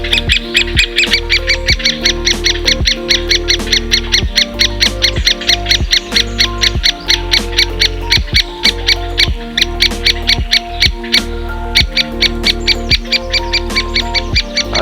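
A great spotted woodpecker's sharp, high calls repeat in a steady rapid series over a recording with a constant low hum and regular lower knocks running beneath.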